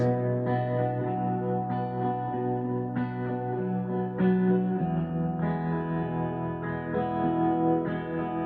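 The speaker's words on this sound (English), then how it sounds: "I was using a bit of tremolo and reverb this morning." Electric guitar chords ring out with a wavering tremolo pulse and lush reverb tails, played slowly and steadily at close range.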